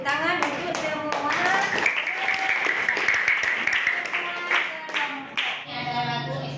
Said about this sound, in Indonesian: kita berikan tepuk tangan untuk semua